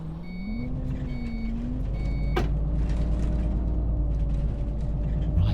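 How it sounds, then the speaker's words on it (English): Seatbelt warning alarm in the OMSI 2 bus simulator game, a series of short repeated beeps over a steady bus engine hum and rumble, with a sharp click partway through. "If you don't put your seatbelt on, once you start driving, you're going to get an alarm, a constant beeping sound"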